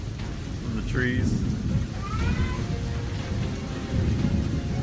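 Fierce thunderstorm with lightning over a bridge: steady rain hiss and low rumbling thunder fill the scene, with a faint voice briefly audible underneath.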